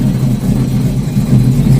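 A 1972 Plymouth Barracuda with a swapped 6.1L Hemi SRT8 V8 running rich rumbles loud and close, a steady low engine drone with slight uneven pulsing, heard from inside the cabin.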